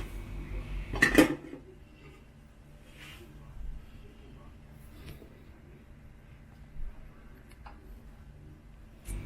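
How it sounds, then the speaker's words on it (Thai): A metal pot lid clanks loudly once as it is lifted off a pot of steamed Thai herbal chicken, followed by quieter scattered clinks and taps of cookware in a calm room. "เปิดฝาหม้อเลยค่ะ"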